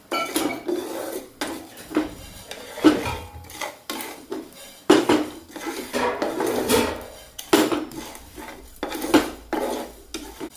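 Coriander seeds dry-fry in a pan while a metal spatula scrapes and clinks against it in an irregular, close stirring rhythm. No one speaks.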